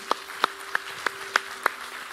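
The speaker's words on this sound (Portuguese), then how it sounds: "Dê um aplauso bem forte a Deus." Sparse handclaps in a church congregation, about six distinct sharp claps spaced evenly roughly a third of a second apart, fairly close and clear over a quiet hum.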